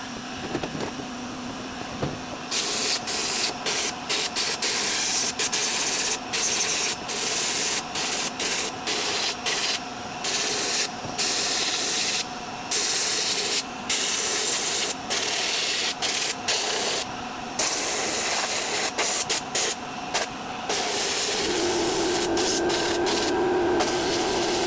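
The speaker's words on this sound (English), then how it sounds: "So we're inside the box here, the spray cabinet or the blast cabinet." Compressed air sandblasting inside a blast cabinet during front suspension prep on a Triumph TR4, a loud continuous hiss cut by frequent brief pauses as the trigger is released.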